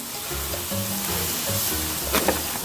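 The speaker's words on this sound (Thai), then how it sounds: "เป็นน้ำตาลปี๊บกับน้ำปลาเนี่ยนะคะเ คี่ยวให้เข้ากันก่อนนะคะ" Palm sugar and fish sauce simmer together in a pan, giving a continuous close sizzle and bubbling with a few soft clinks near the end and no talking.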